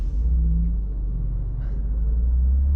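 A 2024 BMW M2 rolls through city traffic, a steady low engine rumble droning close and constant throughout, with no voices over it.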